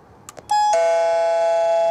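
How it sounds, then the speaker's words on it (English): A touch-screen video doorbell with indoor LCD viewing screens rings out a loud electronic two-tone chime, preceded by a couple of faint taps, with the second tone ringing on steadily. "You just touch the doorbell and it'll ring."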